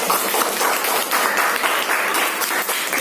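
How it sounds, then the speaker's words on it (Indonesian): Classroom applause for student groups one and three, a loud, dense burst of clapping from many hands that holds steady for a few seconds. "Tepuk tangan dulu untuk kelompok satu dan kelompok tiga."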